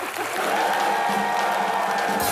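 A studio audience at a Hindi comedy show cheers and claps steadily, a continuous mid-level wash of applause with scattered whoops.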